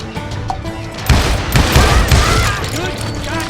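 Gunfire in the Western shooter Call of Juarez Gunslinger: loud, repeated shots and booming bursts crowd the clip, with a voice talking over the shooting.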